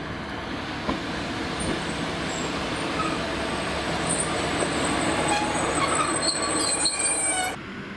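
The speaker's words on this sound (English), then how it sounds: "the train seen previously now returns from Wrexham Central on the next train to Bidston" A Class 230 diesel battery passenger train rumbles steadily past at close range, wheels squealing faintly on the rails, for several seconds before easing off at the end.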